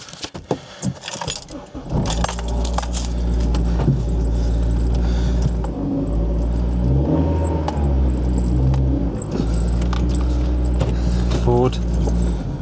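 Keys jangle briefly before a car engine starts and then holds a steady, loud idle and rumble as the car begins to pull away after a clutch line install, with a voice speaking over it.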